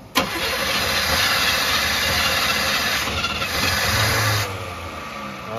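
A Chevy 305 V8 fitted with a two-stroke dirtbike carburetor cranks over with a sharp start, then churns loudly and steadily for several seconds before the sound drops off near the end.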